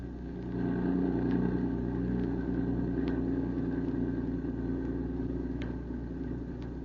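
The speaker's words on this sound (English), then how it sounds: "in a powerful roadster speeding along the highway to the airport" A powerful roadster speeds along a highway toward an airport as a radio drama effect, its engine a deep, steady, close rumble that drones continuously with no talking over it.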